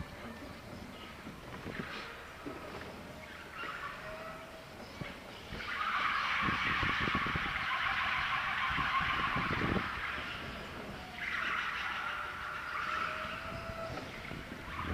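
A Mitsubishi forklift running a forward slalom with its forks raised slightly off the floor: a moderate engine hum swells and eases in waves, with brief tyre squeals between the turns.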